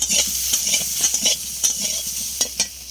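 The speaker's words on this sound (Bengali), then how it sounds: "এবার তেলে একটু ভেজে নেব" Boiled potatoes fry in oil for aloor dum, a bright continuous sizzle close by with repeated scraping stirs and soft clatter of a spatula throughout.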